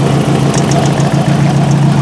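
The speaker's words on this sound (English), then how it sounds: "it's the catch can rattling" A Nissan 240 engine idles loudly and steadily while a catch can in the engine bay gives off a light metallic rattle over the low rumble.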